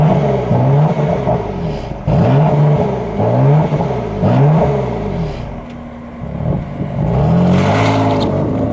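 BMW car accelerating hard around the Portimao race circuit in Portugal, loud engine revving through repeated rising sweeps with brief gear-change dips, heard close from inside the car with no talk.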